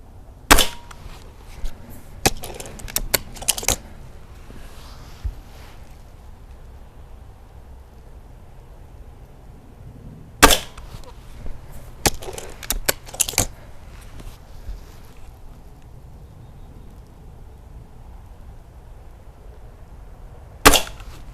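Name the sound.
Gamo Fusion 10 air rifle shooting Norma Superpoint Strike pellets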